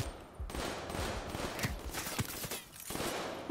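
Rapid bursts of automatic gunfire in Black Ops 3, several close, sharp volleys in quick succession with brief gaps between them.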